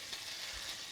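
Meat sears in a hot pan on the stove, a faint, steady hiss and crackle of sizzling fat with no voices, continuous and even throughout.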